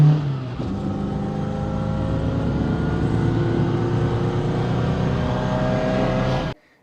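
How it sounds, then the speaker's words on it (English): A Lada Niva accelerates at full throttle, its engine a loud, steady, strained drone that climbs for several seconds inside the cabin before cutting off abruptly. "Maximum acceleration in the Lada Niva."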